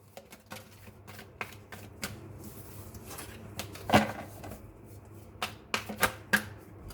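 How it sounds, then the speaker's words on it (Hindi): Cards are shuffled for a tarot-style reading, giving soft, close riffling and sharp snapping bursts that vary in strength, with a few louder flicks near the end. "तो मैं पहले कार्ड्स को शफल कर लूँ"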